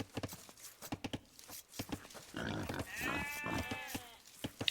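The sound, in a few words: sheep bleating in Age of Empires video game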